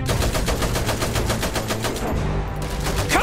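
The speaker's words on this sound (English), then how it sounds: "Heavy machine guns here tonight!" Heavy machine guns rattle in Iron Harvest, a dieselpunk strategy video game: a loud, continuous rapid burst of evenly spaced shots that runs nearly unbroken from start to finish, with no talk.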